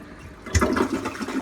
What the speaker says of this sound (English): normal flush toilet. When I flush it,